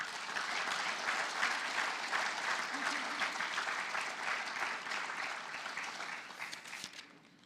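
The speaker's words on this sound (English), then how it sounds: "Can we give this year's FFA officers one last round of applause?" Sustained audience applause at an FFA banquet, steady dense clapping from a large room for several seconds before tapering off at the end.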